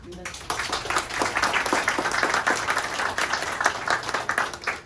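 A seated audience at a community discussion event breaks into applause after a brief quiet moment, dense clapping with distinct sharp claps standing out, continuing steadily to the end.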